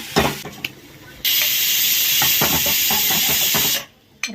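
Onion with garam masala and ginger-garlic paste is sautéed in oil in a pan for bread pakoda. A loud steady hiss and sizzle starts abruptly and holds for a few seconds, with faint stirring clinks around it.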